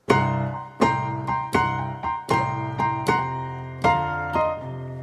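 A piano plays a bluesy lick of struck chords and grace-note slides, about eight attacks in an uneven, swinging rhythm, each ringing briefly before the next.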